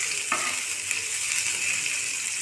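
Onion and garlic frying in a pan, giving a continuous hiss of oil close by with one brief clink of a utensil early on and no talk.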